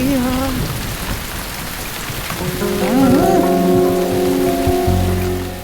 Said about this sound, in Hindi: मैंने कहा था ना कि बारिश होगी